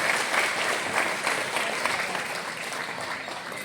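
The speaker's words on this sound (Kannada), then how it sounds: "ಇನ್ನೊಂದು ಚಪ್ಪಾಳೆಯೊಂದಿಗೆ ಇವರೆಲ್ಲರಿಗೂ ಗೌರವ ಸೂಚಿಸೋಣ" An audience at a cultural programme claps for the performers, giving sustained, even applause that stays steady and fairly loud for the whole stretch before easing slightly toward the end.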